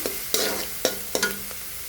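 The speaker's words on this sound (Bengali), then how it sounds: "অল্প পরিমাণ মরিচের গুঁড়া আর হলুদের গুঁড়া দিয়ে ভালোভাবে একটু নাড়াচাড়া দিয়ে দেবো" Chili powder and turmeric are stirred through sizzling oil in a frying pan, with three or four crisp scraping strokes over a constant close hiss and no talking.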